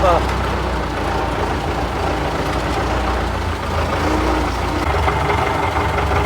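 A rebuilt truck engine idles steadily with a continuous low rumble, close and constant throughout, while people talk over it.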